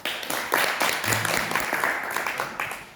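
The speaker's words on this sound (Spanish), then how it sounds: "Así que un aplauso" Audience applause fills a novel presentation at a German club in Valparaíso, a steady wash of many hands clapping at moderate volume for the full stretch, with a few faint voices mixed in.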